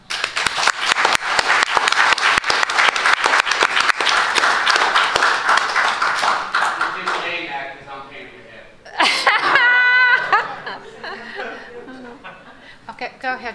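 A meeting audience applauding John: loud, rapid clapping from a group for several seconds, fading out into a few scattered claps, with coughing and murmured voices afterward.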